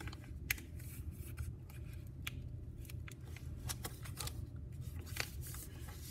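Paper being folded into an origami pecking bird, with soft, faint crinkles and sharp creasing snaps scattered irregularly over a quiet background hum.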